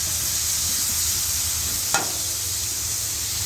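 Chicken fajitas sizzle steadily on a Blackstone griddle, a constant bright hiss filling the short stretch, broken once by a quick scrape of a spatula moving the meat.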